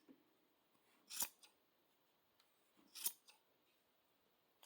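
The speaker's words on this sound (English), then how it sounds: "cut all the loops." Scissors cut through the yarn loops of a crochet pom pom, making two crisp, close snips a couple of seconds apart in an otherwise quiet room.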